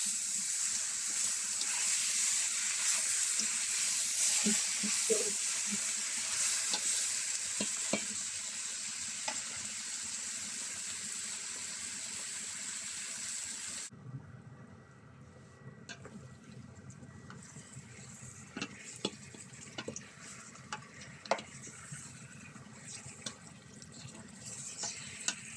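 Chicken fries in a pan for an Arabic-style yellow rice and veggie dish, a steady hiss and sizzle with occasional stirring clinks, the sizzle dropping and turning bubblier partway through.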